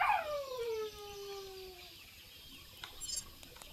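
In the survival video game KeepUp Survival, a dog gives a single drawn-out howl-like bark that slides downward in pitch and fades, faint against quiet ambient game sound, followed by a small click.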